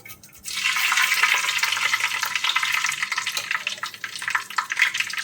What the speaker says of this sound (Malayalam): നമുക്ക് അതിലേക്ക് കുറച്ച് ഒരു 1/2 ടീസ്പൂൺ ഉലുവ ഇട്ട് കൊടുക്കാം